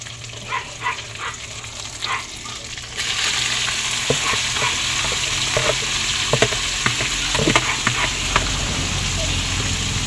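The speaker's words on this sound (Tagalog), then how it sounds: "at nag-umpisa na po si Jampol maggisa. Ilalagay na din po niya yung chop suey" Chop suey vegetables are sautéed in a pan. Light tapping comes first, then a loud, steady sizzle starts about three seconds in, with stirring clatter and utensil knocks over it.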